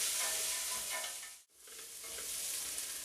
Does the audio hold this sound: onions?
yes